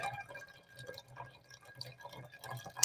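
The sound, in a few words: liquid dripping fast through a ripped funnel filter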